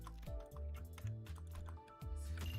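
Quick, irregular clatter of keys being typed on a computer keyboard, close and fairly quiet, with bursts of clicks running unevenly.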